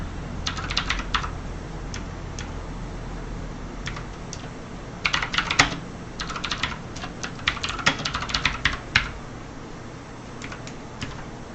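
Fingers tap on a computer keyboard in uneven bursts of fast keystrokes with short pauses, as when someone uses keyboard shortcuts. The clicks are close and crisp against a quiet room hiss, with no talking.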